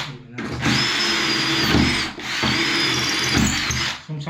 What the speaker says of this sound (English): don't use hammer when you drill these bricks, because you'll just blow them to bits